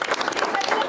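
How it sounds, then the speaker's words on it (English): Applause for committee members at the PATH Women of Worth event, a steady wash of many hands clapping close by, continuous and fairly loud for under a second. "give a round of applause to all of the committee members"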